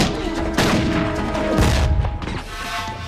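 Gunfire crashes out in a scene from the TV series Firefly: loud, booming shots with a harsh blast and rumbling tail, playing from a television and heard through a room.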